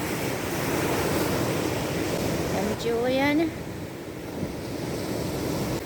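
Sea waves wash steadily onto a remote beach at Anse Galets, Martinique, a continuous broad surf roar with brief wind buffeting; someone speaks once over it midway.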